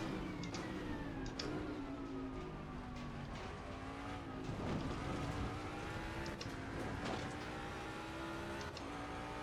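A race car braking hard at Monza in Assetto Corsa Competizione, its engine note falling and rising through downshifts with faint tire squeal, sustained and close, with no talking.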